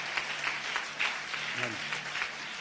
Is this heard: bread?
no